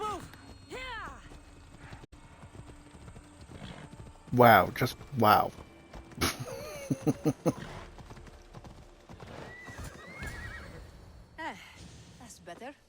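Horse in the Assassin's Creed Odyssey video game, with two loud neighs mid-clip amid clopping hooves, game music and speech around them.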